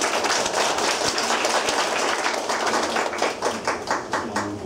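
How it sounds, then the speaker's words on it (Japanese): Audience applause for a graduate speaker at a summer live session event, dense steady clapping from a crowd filling the whole stretch, thinning slightly toward the end. "大きな拍手でお願いください"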